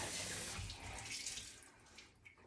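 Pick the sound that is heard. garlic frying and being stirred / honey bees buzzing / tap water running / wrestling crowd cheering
tap water running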